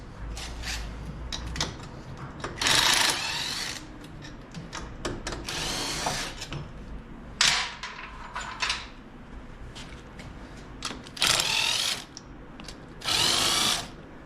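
Power tool removing the brake caliper bolts from a car wheel with the fender off, heard as several short loud bursts of drilling whir separated by quieter clicks and ratcheting, close by.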